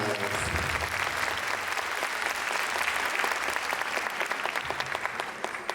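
Sustained, energetic audience applause fills a hall as performers carrying quartz singing bowls come to the stage, dense clapping heard close and steady throughout, with faint voices underneath.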